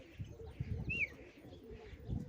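A pigeon coos low and faintly amid rustling and scattered knocks, with one short, sharp higher chirp standing out near the middle.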